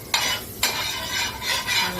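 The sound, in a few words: butter melting on a hot griddle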